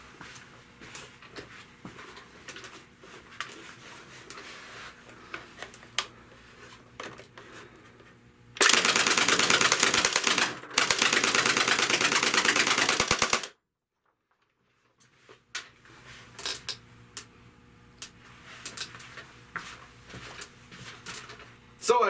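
A Tokyo Marui AA-12 airsoft shotgun fires into cardboard in two loud, dense bursts of rapid shots, separated by a brief break and followed by silence, with talk before and after.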